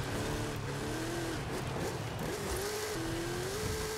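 A V8-powered Jeep Rubicon in Forza Horizon 5 drones steadily under load, its engine pitch rising and dipping through gear changes with constant loud road and motor noise.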